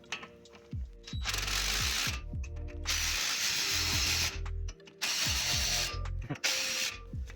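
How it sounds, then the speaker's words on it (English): A pneumatic impact gun with a 12mm socket driving bolts tight on a vehicle lift build, loud repeated hammering bursts of several seconds each, separated by brief pauses, close up. "take that impact gun there with the 12mm socket. And then just crank those down in there."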